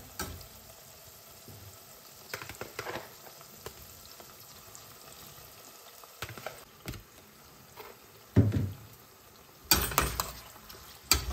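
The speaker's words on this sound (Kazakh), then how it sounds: "Міне пиязымыз әдемі қуырылды. Бұл ары қарай тағы да қуырыла береді ғой." Onions and kidneys fry in a kazan for kuyrdak, sizzling softly and steadily, with a few louder scraping and stirring clatters near the end and no talking.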